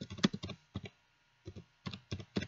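Clacky bursts of typing on a computer keyboard, close and fairly crisp, coming in short clusters of rapid keystrokes separated by brief pauses, with no voices.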